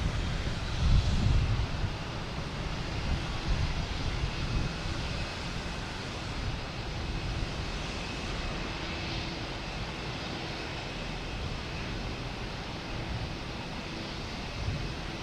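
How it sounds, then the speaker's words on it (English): A JetBlue Airbus A320 takes off from Boston Logan, its steady rumbling engine roar spread across the whole stretch at moderate distance, slightly stronger at the start, with no one speaking. "We have JetBlue taking off, heading to Charleston, an A320"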